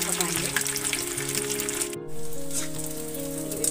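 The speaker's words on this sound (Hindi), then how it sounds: "बिल्कुल गोल्डन ब्राउन होने तक पकाएंगे।" Pieces of soya chap fry in a pan toward golden brown, giving a continuous bright sizzle close by, interrupted briefly by a sudden drop before the crackling resumes.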